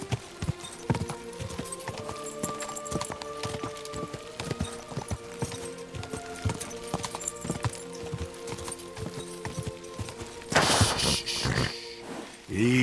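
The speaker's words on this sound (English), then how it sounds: "Easy, good horse." In Kingdom Come Deliverance 2, a horse's hooves clip-clop in a steady rhythmic walk beneath a sustained musical drone, ending with a louder rushing burst near the close.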